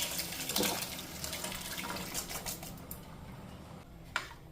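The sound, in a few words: pouring boiled black chole into pan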